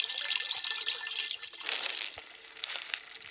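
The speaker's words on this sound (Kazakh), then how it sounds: "Так, мына су қойып қояйын." Water pours in the survival video game Raft, a steady splashing hiss that runs for a few seconds and gently rises and falls, mostly alone.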